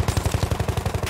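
A machine gun fires a rapid, steady burst of about a dozen evenly spaced, loud, close shots during a Battlefield 1 battle on the Sunken Roads map.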